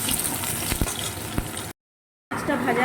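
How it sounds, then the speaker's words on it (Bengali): Chopped onions frying in hot oil in a pan, a close, bubbling sizzle with a few crackling pops, cut by a short silent gap before resuming. "পেঁয়াজটা একটু ভাজা হোক"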